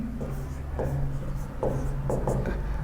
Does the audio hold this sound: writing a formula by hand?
yes